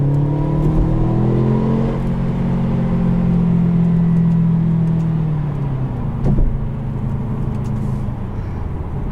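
Engine of a 2018 Mercedes-Benz CLA250 heard from inside the car as it accelerates after braking and a downshift, a steady loud hum rising and then easing with a brief shift around the middle, no talking.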